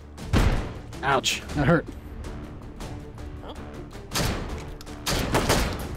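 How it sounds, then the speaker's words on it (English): A hand grenade blast in the VR shooter Hot Dogs, Horseshoes & Hand Grenades lands as a sharp boom, followed by more bursts of gunfire-like cracks, while players talk over the action. "You just dropped a grenade."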